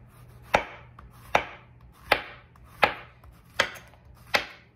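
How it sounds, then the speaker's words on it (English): A knife slices through squash on a cutting board in six sharp, evenly spaced chops at a steady rhythm, close and clear with no talking. "I'm gonna be slicing up my squash."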